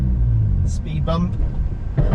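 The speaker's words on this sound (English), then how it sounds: "That's a cool overrun." Mazda RX8 with its 13B rotary engine on overrun while driving, a low rumbling drone with faint crackles beneath a voice.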